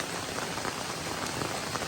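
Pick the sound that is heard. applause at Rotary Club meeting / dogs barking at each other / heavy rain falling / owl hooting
heavy rain falling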